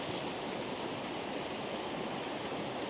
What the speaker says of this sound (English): I'm not capturing the wee tap waterfall there.